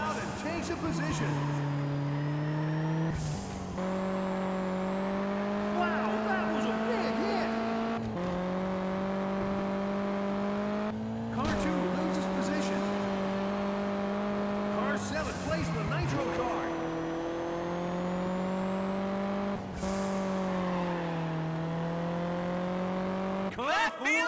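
Race cars in the video game Juiced 2 accelerating with nitro, engines climbing in pitch through repeated gear shifts in a clear, rhythmic cycle, loud and close, with a commentator's voice over the action.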